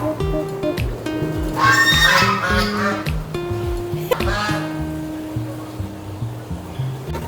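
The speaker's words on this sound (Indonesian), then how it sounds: "sini ada kuda, sapi juga" A horse at a hotel petting zoo whinnies in a long, loud, wavering neigh, heard close with background bustle and faint voices around it.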